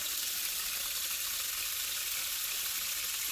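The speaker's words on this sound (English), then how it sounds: "Turn on the water." Water rushes steadily through a household water pump system during pressure switch testing, a constant hissing flow heard close up with no talk.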